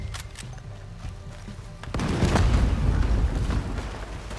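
Cannon fire and gunshots in the Red Dead Redemption 2 video game, a dense, loud barrage of booming blasts and cracks that swells after a quieter opening and keeps rumbling continuously.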